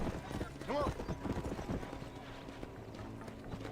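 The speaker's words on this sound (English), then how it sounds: "My horse came in." Horse hooves clip-clopping in a western video game, an irregular patter of hoofbeats close by with a brief whinny early on, mixed with low game ambience and faint background voices.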